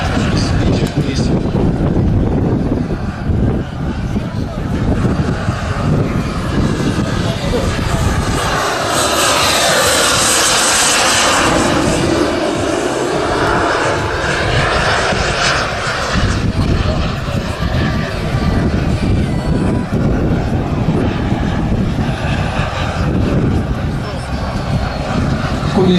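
The engine of a radio-controlled model airplane drones loudly and steadily as it flies at an outdoor model aviation show, its pitch swelling as it passes. Strong wind rumble is constant, and someone talks over it throughout.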